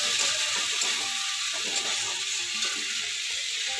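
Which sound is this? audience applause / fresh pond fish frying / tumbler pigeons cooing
fresh pond fish frying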